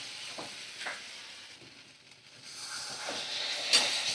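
A spatula stirs potatoes coated in poppy seed paste in a sizzling frying pan, with a few scraping strokes over a steady hiss of frying, close and moderate, no voices.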